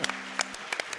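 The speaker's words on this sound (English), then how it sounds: "let's give another huge round of applause for these runners" Scattered clapping from an audience cheering Legend of Zelda speedrunners after a race, a few distinct claps and short bursts, moderately loud, with a brief hum at the start.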